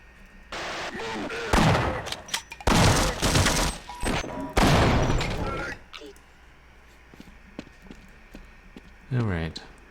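Grenade explosions and gunfire in Half-Life hit as several loud, booming bursts over the first six seconds, then the action fades to quieter background, with people talking throughout.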